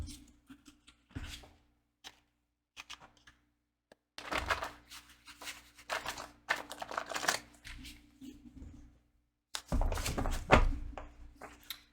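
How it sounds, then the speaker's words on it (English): Tarot cards being shuffled in quiet, intermittent bursts of riffling and soft slaps, close and gentle, with pauses of near silence between handfuls. "Shuffle this a couple more times."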